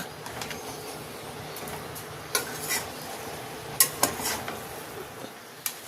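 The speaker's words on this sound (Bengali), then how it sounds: "এইভাবে কিছুক্ষণ কষে নেব" Water lily stem curry being stirred and sautéed in a pan, with a few sharp utensil scrapes and clinks over a faint, steady background hiss.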